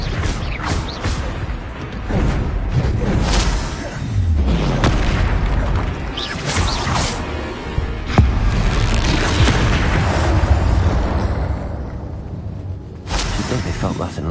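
Confringo blasting-spell explosions in the video game Hogwarts Legacy: repeated deep booms and crackling impacts layered with dense combat effects and a continuous score, loud throughout with brief lulls between blasts.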